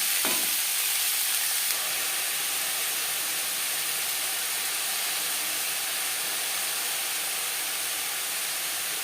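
Yardlong beans and bottle gourd peel stir-fried with garlic, onion and spices give a steady, hissing sizzle that runs evenly throughout, with one brief knock at the start.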